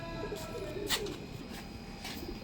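A pigeon gives a brief, soft coo over a low background hum, with a faint voice in the distance.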